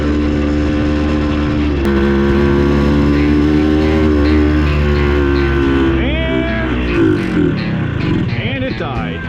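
A Bultaco Metralla two-stroke motorcycle engine runs with a buzzy, steady drone, a revving rise and fall around the middle, then sputters and winds down near the end.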